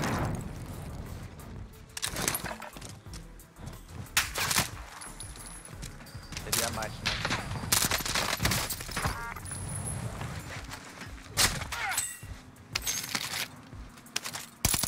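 Welgun submachine gun fire in Warzone: short bursts of rapid shots come in scattered clusters amid game noise, with a few mechanical clicks and no talking.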